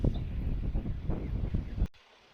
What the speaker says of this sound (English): You can probably hear the wind in the camera.